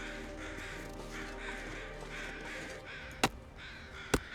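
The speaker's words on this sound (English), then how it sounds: "we got another set of crows straight ahead." Crows cawing in the snowy wilderness of The Long Dark video game, several harsh calls layered over a steady wind-like ambience, with two sharp broadband clicks near the end and no talking.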